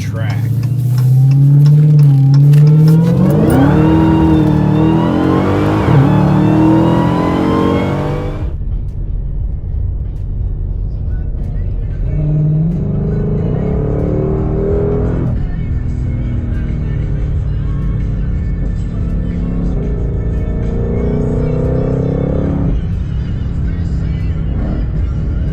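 A Dodge Challenger Redeye or Ford Mustang GT500 engine in track mode revs hard and rises in pitch, then drops to a rumbling idle before several shorter revs, with people talking over it.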